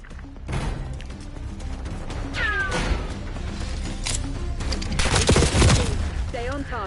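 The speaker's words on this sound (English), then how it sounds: "I got a first kill with my impact grenade" A video-game firefight: an impact grenade blast and rapid gunfire crackle loudly and close, with dense bursts and a sharp crash near the end, over a constant rumbling background.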